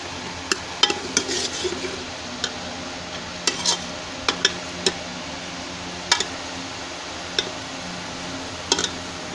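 Rawain beans and tomato frying in ghee while being stirred, a steady close sizzle broken by sharp clicks and scrapes of a spoon against the pot at irregular intervals, with no talk.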